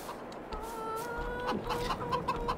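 Chickens in a Farming Simulator 22 coop clucking softly at mid distance, with steady tonal game sounds underneath and scattered short clucks toward the end.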